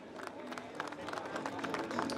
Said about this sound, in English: Big round of applause for the three.